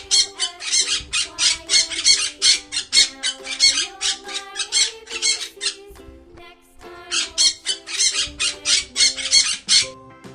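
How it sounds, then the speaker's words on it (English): A parrot squawks loudly and repeatedly in harsh bursts, two long runs of rapid rhythmic calls separated by a brief pause, close and alone without talk. "P for parrot"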